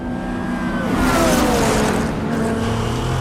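A street-racing car's engine roars loud and close in a video game set on the streets of Rio de Janeiro, holding a sustained high rev with a slight pitch sweep, alone without talk.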